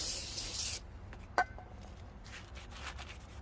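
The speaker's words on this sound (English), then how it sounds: "Spray it down with some brake clean and then wipe it off." Brake cleaner sprayed onto a new brake rotor during a 2013-2018 Nissan Altima brake job: a close, brief hissing burst under a second long, then a faint clink and quiet shop ambience.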